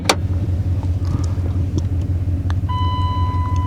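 A Dodge Ram 1500 pickup truck engine runs with a steady, close, low rumbling idle after a sharp burst at the start. A thin electronic chime tone sounds near the end. No one speaks.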